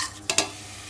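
Cloves, cardamom, star anise, cinnamon and bay leaf frying in ghee and oil for mutton keema biryani, a brief steady sizzle with two quick spatula scrapes close by, no voices.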